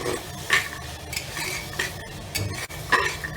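A spoon stirring coriander powder and other spices into vegetables in a pressure cooker for masala pulao, making repeated close scraping clinks at an uneven rhythm over a low background sizzle, with no talking.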